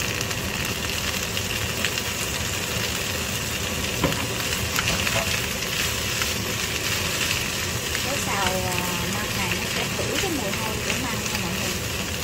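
Boiled bamboo shoots stir-fry in garlic fat with a steady, close sizzle and occasional scraping stirs, with a constant background hum and someone speaking over the cooking.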